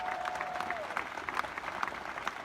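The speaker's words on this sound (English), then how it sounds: "Take a second round of applause." A crowd at a political rally in Mount Vernon applauds steadily, a dense wash of clapping at moderate volume throughout, with a brief voice audible at the start.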